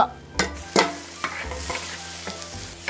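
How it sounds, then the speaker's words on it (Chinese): Pickled greens are stir-fried in a wok with rendered pork chitterlings, small chilies, ginger and garlic. A spatula scrapes in several distinct strokes over a steady sizzle, with no talking. "你看一下这个酸菜啊，我们一定要下锅炒，给它炒香啊"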